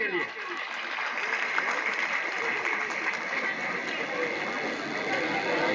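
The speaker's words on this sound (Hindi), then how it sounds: "तालियां आपके लिए।" Students at a Class 12 farewell blessing ceremony at a government senior secondary school applaud together in a steady, dense wash of clapping that holds evenly throughout, with crowd murmur mixed in.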